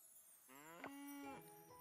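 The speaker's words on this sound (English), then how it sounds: "We'll take care of our cute cows." Cows moo in the Coral Island farming game. One clear, drawn-out moo rises and then falls, followed by a shorter second call, heard on its own over a faint background.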